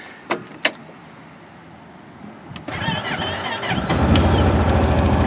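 Truck engine cranking and catching, a Ford Ranger started from inside the cab: a couple of sharp clicks, a brief crank, then the engine fires and settles into a steady, loud idle close by.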